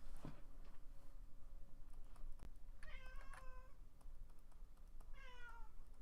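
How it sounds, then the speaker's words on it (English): A house cat meows twice in quick succession, close and clear, with faint keyboard tapping and room noise underneath. "The cat's here."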